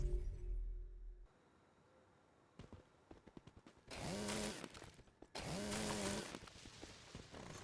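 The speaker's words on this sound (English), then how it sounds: "Chainsaw." A chainsaw in the Once Human video game cuts wood, two loud sustained buzzing bursts with a steady engine whine, preceded by quieter clicking and rattling.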